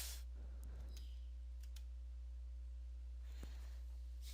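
Enter key pressed on a computer keyboard during a Windows command-prompt repair, a couple of faint clicks near the start and another near the end over a steady background hum.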